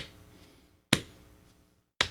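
Two sharp hand taps roughly a second apart keep an even beat after switching hands, close-up and dry, each with a brief ringing tail.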